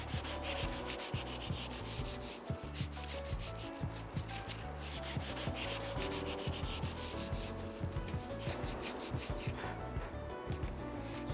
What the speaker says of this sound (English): we have a sandpaper here, which is a bit more rough. So we're going to use this one to remove off the rust on the rails.